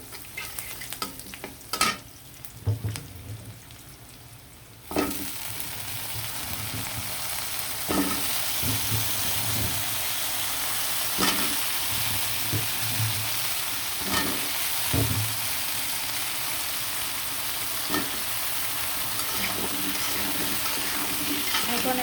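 Finely chopped onions frying in a pan, a steady bright sizzle that jumps louder after a few seconds, with recurring stirring scrapes over roughly twenty seconds and no talking.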